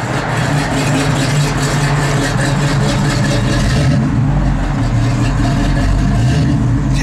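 A 1969 Pontiac Firebird engine runs loud and close, holding a steady rumble with light revving that deepens after the midpoint, continuous throughout.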